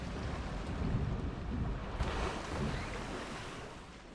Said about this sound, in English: That was a little splash.